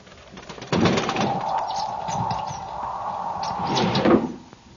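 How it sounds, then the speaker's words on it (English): A bird at a window sill at night, with a knock and a soft fluttering scrape against the glass, then a sustained cooing tone and another bump near the end, fairly close and alone. "It was a bird."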